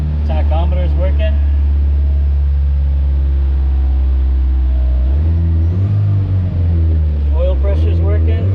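An abandoned Suzuki Samurai engine running loud and close, a deep steady rumble that shifts pitch midway as revs change, with someone talking over it at the start and end.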